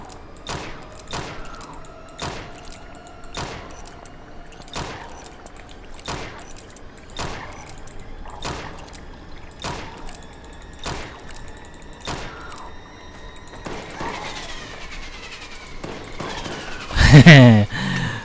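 Steady gunfire from a weapon in the From Space video game, sounding as regular single shots roughly once a second under occasional talk, ending in a louder burst of impacts near the end.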